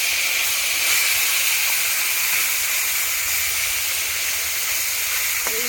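Fish added to hot oil in a home kitchen pan, giving a steady loud hiss and sizzle of frying that runs unbroken throughout, with no talking.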